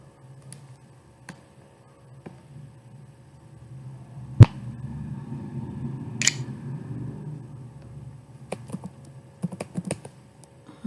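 Computer keyboard typing during data entry in Tally Prime accounting software: scattered, close keystrokes with irregular pauses, one sharper clack midway, and a quicker cluster of taps near the end, with no talking.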